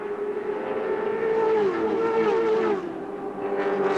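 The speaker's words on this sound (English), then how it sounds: "The car moving about and forcing Faulkner up onto the high line." Race car engine on the Auscar oval at Thunderdome, a steady sustained drone at night racing, loud and continuous with a slight pitch shift as cars move about the track.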